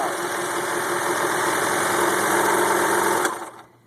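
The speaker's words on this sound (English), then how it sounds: "Step on the foot pedal, and away I go." A serger sewing machine runs steadily while stitching a seam in fabric, a loud continuous whirring hum with no pauses that cuts off abruptly near the end.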